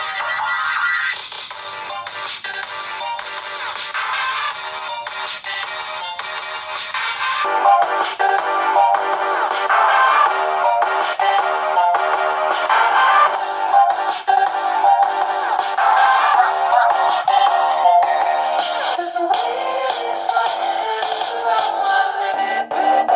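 A VKWORLD Z3310 phone's loudspeaker plays a bright, busy ringtone melody, loud and continuous with thin, tinny tone and no bass, running for over twenty seconds with a brief change partway through and no talking.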